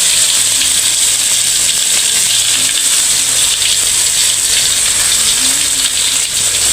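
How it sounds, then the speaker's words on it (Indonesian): Ingredients are stir-fried in a pan during Sundanese cooking, giving a loud, steady, dense hiss that carries on unbroken without any talk. "Kita tumis dulu."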